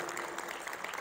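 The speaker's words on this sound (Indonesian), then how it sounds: "Tepuk tangan bagi Tuhan." Brief burst of congregation applause during a Christian sermon, with dense, steady clapping heard at a moderate distance for about a second.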